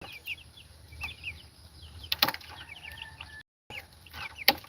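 Broiler chickens in a pen on a farm in Aklan cluck softly and continuously close by, with a couple of sharper squawks standing out.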